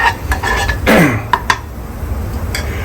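Utensil scraping and clinking against a pan as gram flour is sautéed for stuffed bitter gourd, with a louder scrape near the start and a few sharp metallic knocks afterward, close by and without talk.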